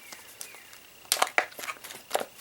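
Thick plastic bag of an ITS Tactical Boo Boo Kit being opened up close, crinkling softly at first and then crackling in sharp, loud bursts as it is pulled and handled.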